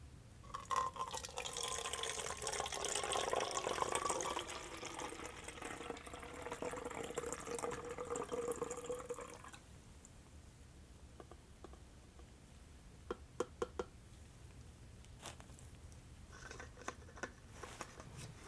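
Purple liquid dye pours through a funnel into a plastic squeeze bottle for tie-dye, a close, steady splashing fill for about nine seconds, then quiet with a few small clicks and taps.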